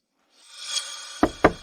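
Two sharp knocks land on a wooden door near the end, close and loud, after a soft rising rustle.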